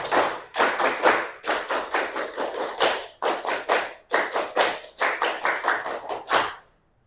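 A classroom of students performs a rhythmic spirit clap, with bursts of sharp, loud hand claps grouped into quick patterned runs separated by short pauses, ending in silence.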